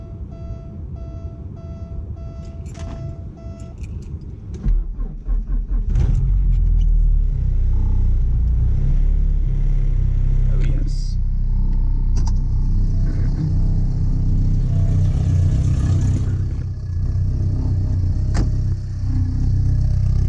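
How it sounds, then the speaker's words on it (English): A chime beeps several times, then a Porsche 944 engine cranks and catches on a cold start with a new exhaust, settling into a loud, steady rumbling idle with brief revs. "let's hear this cold start up"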